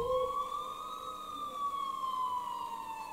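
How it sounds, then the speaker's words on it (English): A wailing emergency siren slowly rises and falls in pitch, sounding somewhat distant over a low background rumble. "I finally heard sirens in the distance"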